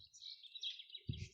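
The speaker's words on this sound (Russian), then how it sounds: "Птички поют." Small birds chirp and sing continuously at a country dacha in early spring, bright repeated tweets carrying through the clip, with a low rumble entering near the end.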